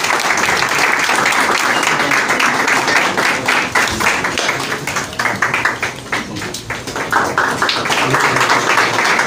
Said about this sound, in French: appeler notre président, qui est l'orateur de ce jour, M. Enda Diogène Séni, sous vos applaudissements,